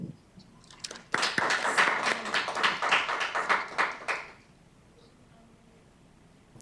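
Audience applause at a Chandler Unified School District governing board meeting, a burst of many hands clapping that starts sharply, holds for about three seconds and then fades out into quiet room tone.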